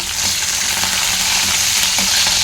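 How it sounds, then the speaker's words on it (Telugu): Onion pieces, spices and curry leaves fry in a pan for an aloo cauliflower curry, giving a loud, dense, continuous sizzle with faint scraping from stirring. "కొంచెం ఉల్లిపాయ ముక్కలు వేసుకొని వీటన్నిటిని మంచిగా ఫ్రై చేసేసుకోవాలి"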